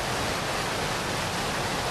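Steady, full rushing water from a waterfall in the fantasy game Stones of Harlath, an even broadband roar with no breaks or other sounds.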